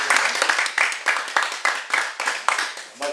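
A small group claps in short, uneven bursts, roughly six or seven swells of applause close to the listener, each rising sharply and fading before the next.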